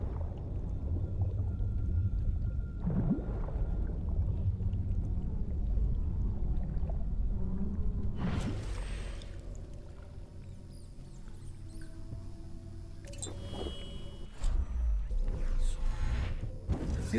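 A possessed fish swimming through water in the video game Dishonored: muffled underwater rumble and low bubbling swirl, fairly steady, with a splashy surge midway and faint watery chirps and clicks later.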